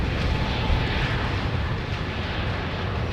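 A jet airliner departing from runway 09 roars at full thrust, a loud steady broadband rumble that fills the whole clip without pause.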